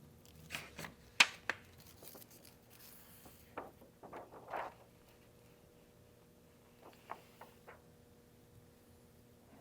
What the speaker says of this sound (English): So we only really need to cut off a couple of pieces of foil that are just about that size